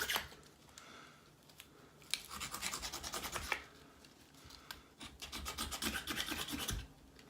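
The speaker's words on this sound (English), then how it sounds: "See, the ferro rod doesn't ignite because it hardened with the cold." A ferro rod is scraped in freezing cold without igniting, giving bursts of harsh, rasping scrapes in two long runs of quick strokes, close and fairly loud, with quieter gaps between.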